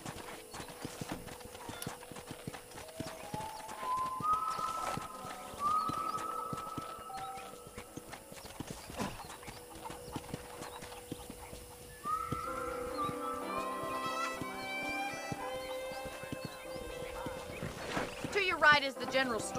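Horse hooves clip-clop at a walking pace in the Red Dead Redemption video game, an even rhythmic clatter under melodic music and occasional talking, with a brief whinny along the way.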